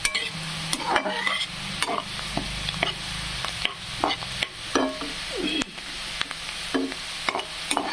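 Onion frying and turning reddish-brown in a pan, loud close sizzling with frequent scraping and clacking of a spatula as it is stirred steadily.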